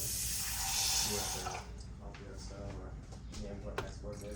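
Tap water runs hard into a gallon-size jug for about a second and a half, then cuts off, leaving quieter handling clatter and a brief clunk near the end.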